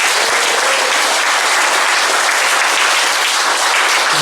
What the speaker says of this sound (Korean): 우리 그 찬양 받으실 만에 합당하신 하나님께, 우리 예수님께 영광의 박수 드리겠습니다